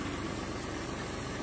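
A tractor drives a 10 HP monoblock water pump motor, a loud, steady engine drone with a low throbbing pulse, close by and unbroken throughout.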